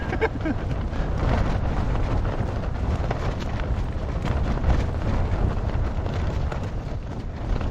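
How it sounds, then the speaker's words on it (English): Strong wind blows steadily outdoors after a hike, a dense, constant roar and buffeting rumble that fills the whole stretch without a break. "Can you hear the wind?"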